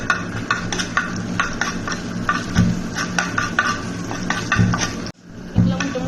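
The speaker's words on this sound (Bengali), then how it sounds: "একটা ফ্রাই প্যানে সয়াবিন তেল গরম করে নিয়ে তার মধ্যে কিছু পেঁয়াজ ভেজে নিচ্ছি" Onions frying in hot soybean oil in a frying pan for an aloo puri filling give a steady sizzle, broken by repeated scraping and clinking from stirring, with a brief drop to near quiet shortly before the end.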